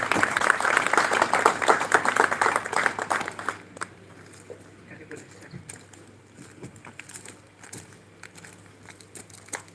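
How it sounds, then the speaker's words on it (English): Audience applause at the Bungoma Health Link Forum launch welcoming the health minister, Dr. Wamalwa: loud, dense clapping at first that fades into scattered claps while an announcer talks over it. "Let's encourage him as he's coming with a hand of clap."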